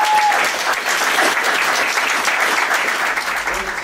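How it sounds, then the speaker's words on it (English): Loud conference audience applause, a dense steady clatter of many hands clapping from start to finish, with no voices over it. "please now give a round of applause for Mark Cockey."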